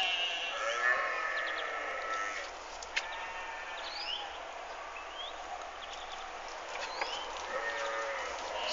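Farm animals call over one another, with bleating sheep and goats and some lowing, a constant chorus from a fairly close barnyard.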